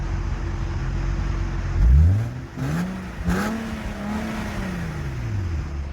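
A Nissan 370Z sports car drives with a steady low engine drone. Around two seconds in, the engine swells into a clear rev and then settles back to a smooth cruising hum, with no voices.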